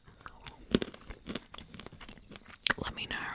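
Pistachios crunch and are chewed close to the mic in a few sharp, scattered bites, with soft talking between them in a relaxed chit-chat setting.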